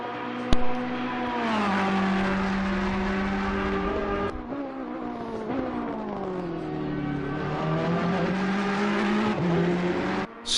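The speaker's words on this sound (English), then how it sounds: "Straightening that car up and unleashing close to 600 horsepower" GT3 race car at Laguna Seca, engine holding a loud sustained drone that rises through the gears as it accelerates, with brief shift dips and a steady high-pitched whine, close and continuous and with no talk.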